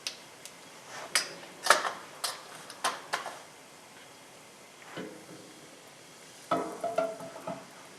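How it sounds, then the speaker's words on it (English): Cumin seeds crackling and sizzling in hot ghee for a dal makhani, with a piece of onion already frying; a scattered run of sharp pops and ticks, close and moderately loud, fading quiet in the middle before a fresh burst of sizzle. "I put in a piece of onion, and it's frying pretty good in there"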